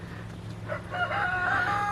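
A bantam rooster crows once, close and clear, a drawn-out call rising over quiet farmyard background with no talking.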